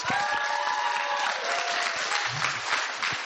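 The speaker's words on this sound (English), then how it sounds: "Give yourself a round of applause." Convention audience at a LeakyCon Harry Potter fan event in Portland applauds steadily, a dense wash of clapping from a large crowd that holds at full strength throughout, with a brief murmur of voices near the start.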